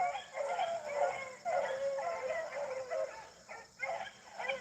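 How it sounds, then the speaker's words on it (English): A young female hound pup yips and barks in short, repeated bursts during a rabbit hunt in the field, mixed with other hound voices at a moderate distance outdoors. "You can hear that little female pup in there. It's got that little yip bark to her."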